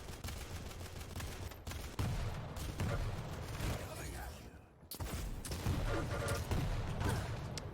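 Rocket launcher fire in a Quake match, a string of blasts and explosions with game effects layered over a caster's fast commentary.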